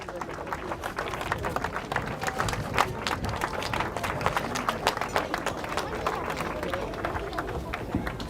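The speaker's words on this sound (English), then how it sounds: "Big round of applause." An outdoor crowd claps at a powerboat racing trophy ceremony for the UIM XCAT World Championship in Fiumicino, Italy, giving a steady, busy patter of hands throughout with some background voices.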